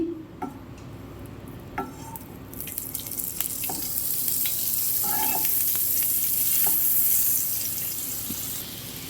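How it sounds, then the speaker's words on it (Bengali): Chicken pieces fry in oil and Amul butter, starting with a few sharp spatters and clinks, then swelling into a loud, dense, continuous sizzle close by that eases slightly at the end. "পুরো মাংসই কিন্তু আমি একটা একটা করে ভেজে নেব তেল আর বাটার দিয়েই"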